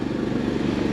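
An Onan 5,500 gasoline generator runs steadily on a 2007 Winnebago Voyage 35L Class A motorhome, giving a constant low engine drone heard close and alone, without talk.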